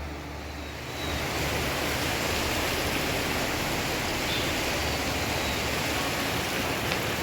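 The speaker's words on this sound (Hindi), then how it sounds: "ये नदी बह रही है" A river flows past a sandy bank, giving a steady, dense rushing wash that swells up after the first second and holds evenly, with no voices heard.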